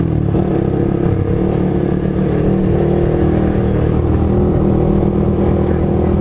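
A motorcycle engine runs loud and close, holding a steady throaty drone with slight swells of revving throughout.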